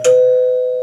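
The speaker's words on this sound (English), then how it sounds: "there's the doorbell" A doorbell sound effect rings a single clear electronic chime that starts with a bright strike and then sustains as one steady, slowly fading tone.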